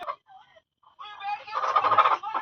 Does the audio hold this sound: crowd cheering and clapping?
no